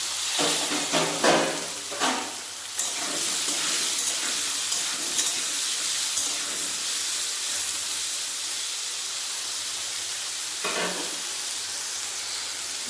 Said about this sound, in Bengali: ঝিঙে আলু ভালোভাবে ভাজা হয়ে গেছে